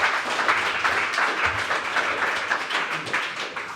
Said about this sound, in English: very big applause